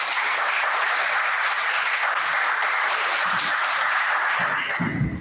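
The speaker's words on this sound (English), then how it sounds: "So please welcome in the room with actual applause" An in-room audience at a London Fortean Society talk on twins applauds steadily, a dense, even wash of clapping sustained for about five seconds without voices.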